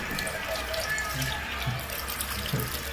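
Water runs steadily from a tap during a head wash at a barber shop, a continuous splashing rush with no talk over it.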